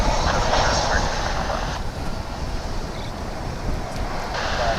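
An arriving passenger jet from San Diego at DFW Airport, heard from outside as a distant broadband roar mixed with wind noise, fairly steady over a few seconds.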